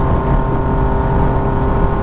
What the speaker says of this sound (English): use the quick shifter so you can hear what the bike sounds like